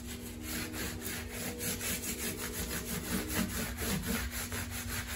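Steel wool rubs back and forth over the frets of a guitar with a wraparound bridge, making a steady close scratchy scrubbing with regular strokes and no talking.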